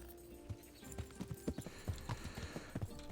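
Horse hooves clip-clop in the medieval video game Kingdom Come Deliverance, a steady run of fairly close, irregularly spaced hoofbeats over a quiet game backdrop.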